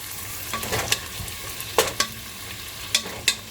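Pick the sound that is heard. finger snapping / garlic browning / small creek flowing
garlic browning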